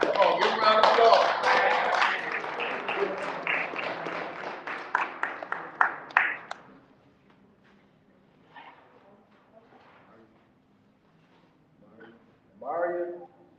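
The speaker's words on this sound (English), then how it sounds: "Come on, give a round of applause." An audience at an MLK brunch program bursts into loud applause that thins into scattered claps and dies away after about six seconds, followed by near quiet with brief murmurs and a short voice.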